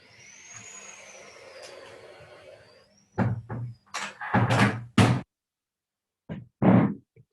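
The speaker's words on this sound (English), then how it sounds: "I will close the door." An interior door pushed shut partway through, first a soft rustle and faint shuffling, then a short run of loud, close knocks and thuds as it closes, followed by quiet and two more bumps.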